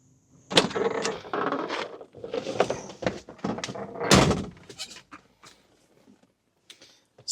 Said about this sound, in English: the mechanical clunk of getting into one of these will just never really end